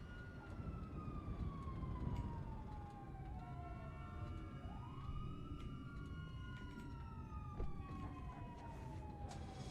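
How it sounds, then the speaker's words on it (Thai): A video game police car siren wails continuously, its pitch sweeping up and down over a steady rumble of traffic noise, loud and close. "เสียงรถตำรวจครับ"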